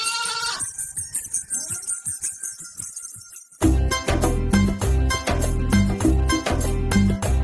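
A goat bleats several times during a school performance based on Vaikom Muhammad Basheer's characters, with short wavering cries sounding close, before loud music cuts in and drowns everything.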